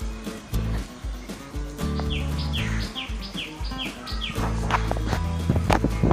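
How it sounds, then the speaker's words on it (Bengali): A bird calls from outdoors in a quick run of repeated falling chirps, fairly clear and mid-distance, over cooking and kitchen clatter in a home. "একটা পাখি ডাকছে, খুব ভালো লাগছে"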